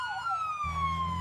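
A wailing emergency vehicle siren sweeps briefly in pitch, a short loud burst with an engine-like low rumble coming in halfway through.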